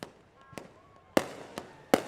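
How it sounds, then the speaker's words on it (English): Firecrackers go off on a Buffalo Fourth of July weekend street, with several sharp bangs at irregular intervals, two louder cracks standing out among fainter distant pops. "Firecrackers going off."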